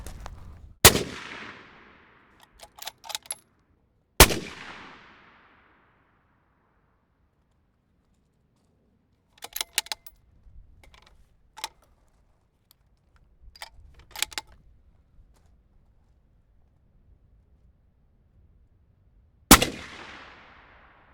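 Precision rifle shots at a 100-yard training range: three sharp, loud cracks spread across the stretch, with small clicks and rattles of handling the gun and equipment between them in otherwise quiet surroundings; no talk.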